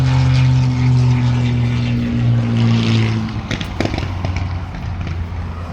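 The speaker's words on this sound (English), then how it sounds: "That was a combination of car and plane flyover." A car and a propeller airplane pass overhead near a parked RV: a loud, steady engine drone with a low hum fades and gives way to a short burst of rumbling bangs, then quieter traffic noise.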